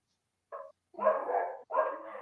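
Dogs bark in a home setting, one short yelp followed by two longer bursts of loud, close barking separated by brief silences.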